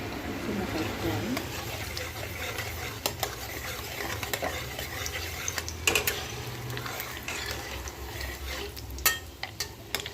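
Urad dal stirred with a spatula in a hot oiled pan for chamadumpa fry, giving a steady sizzle with repeated scraping clicks and clatters close by, with a voice heard intermittently.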